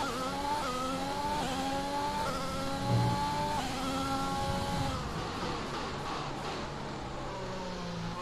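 A Formula 1 car in the F1 2020 racing game, engine and tyres on track during an easy practice lap, gives a loud, continuous high-pitched engine whine that climbs and dips in pitch through gear changes, with no talk over it.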